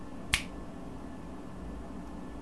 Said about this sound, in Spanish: si ustedes escuchan este chasquido